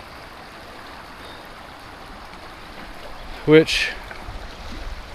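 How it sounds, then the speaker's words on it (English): Steady broadband rush of a stream crossing a hiking trail in the 100 Mile Wilderness, Maine, continuous and moderately close, with a brief spoken word and a short splash or movement partway through. "it very clearly crosses the stream here"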